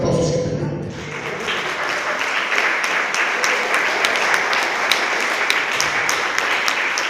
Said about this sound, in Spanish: Den un fuerte aplauso si entendieron.